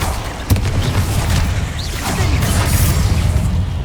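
A Confringo spell explosion from the Hogwarts Legacy game lands with a sharp crack and deep boom, followed by rolling rumbles and whooshing debris in dense battle ambience, no voices.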